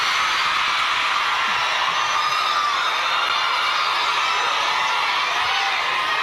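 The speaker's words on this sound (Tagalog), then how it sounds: "Dahil kayo ay sumisigaw ng Duterte," A large crowd of students at a school gathering shouts and cheers, a dense, loud and continuous roar of many voices with no let-up.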